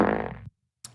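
A comedic fart sound effect: a loud, buzzy blast lasting about half a second, followed by silence and then a second, shorter and quieter puff.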